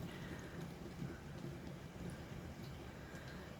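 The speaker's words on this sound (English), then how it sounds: "It's been raining all night." Heavy overnight rain pours steadily outside a house near the ocean, a faint, even hiss of downpour with no distinct drops or voices.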